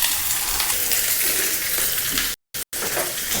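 Chillies frying in hot peanut oil, a dense, even sizzle held close and loud, with faint scrapes of stirring, broken by a couple of brief dropouts into silence.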